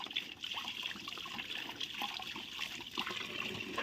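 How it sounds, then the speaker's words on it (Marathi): A golden Labrador laps at running water from a tap, the steady splash and trickle of flowing water continuous and close throughout, with occasional soft slurps mixed into the stream. "किती किती पाणी पितोय"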